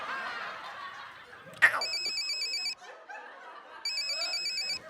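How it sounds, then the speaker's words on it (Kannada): A mobile phone ringtone plays in two bursts of repeating electronic beeps, loud and close, with some chuckling and background chatter around it. "ರಿಂಗ್ ಟೋನ್ ಒಂಜಿ ಉಂಡು"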